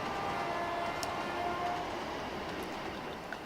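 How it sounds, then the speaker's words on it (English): An AI-driven Class 350 electric multiple unit rolls past in the Trainz railway simulator, a steady low rumble of wheels and traction with faint clicks, fairly quiet and unbroken. "We've got another 350. So this is one of the last AI trains that we're going to be passing."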